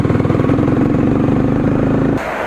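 A Honda CBR 250R motorcycle fitted with an Akrapovic exhaust gives a loud, steady engine drone with a rich rumbling tone, held close for about two seconds before it abruptly drops away.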